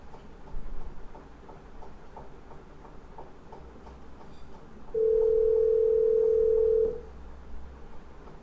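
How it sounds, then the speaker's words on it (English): An outgoing cellular call placed from an Apple Watch produces a steady ringback tone lasting about two seconds, clear and prominent above a quiet room with soft ticking in the background. "I'm going to tap on the phone app, and I'm going to call Deidre, who's a colleague on the watch team."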